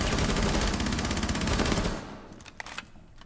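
Rapid AUG rifle fire in Rainbow Six Siege, a dense continuous burst for about two seconds, then stopping and leaving a few scattered distant shots and clicks.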